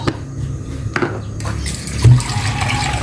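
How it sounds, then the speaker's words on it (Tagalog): Water poured into a pot of simmering mung bean stew in a home kitchen, a short splash with a swell of liquid pouring near the end, over steady background noise. "Dagdagan ko ng tubig para hindi masyadong malapot ang aking munggo."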